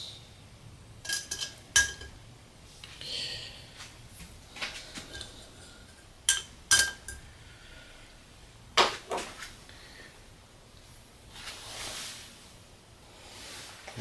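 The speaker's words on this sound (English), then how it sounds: "I'll probably just use my 10 centimeter cook pot to make these eggs." A small 10 cm camping cook pot being handled outdoors, with scattered metallic clinks and knocks of cookware and utensils, several sharp bright clatters spread across a quiet background with no talking.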